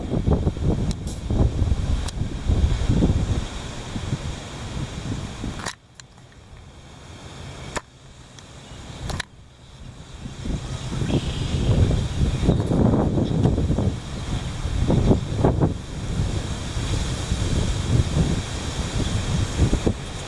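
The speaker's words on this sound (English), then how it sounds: "The heavy wind." Heavy wind roars and buffets outdoors in loud, sustained gusts, dropping into a couple of brief lulls before surging again.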